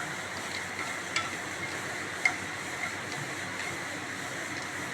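Chana dal and dried red chillies frying in hot oil, a steady soft sizzle with faint stirring clicks throughout, close and even in level.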